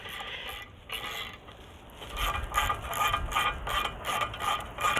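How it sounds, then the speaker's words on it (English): Ratchet with an 11 mm socket tightens bolts on a hardware-store non-penetrating roof mount, giving close, steady clicking strokes that grow denser and louder partway through. "While I'm like tightening these bolts."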